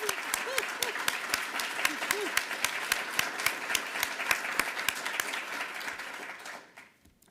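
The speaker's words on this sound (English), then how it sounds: "let's give one more round of applause to the two of them as well" Audience applause at the UW-Madison School of Education 2023 Distinguished Alumni Awards ceremony: dense, steady clapping from a sizable crowd that holds strong, then fades away near the end.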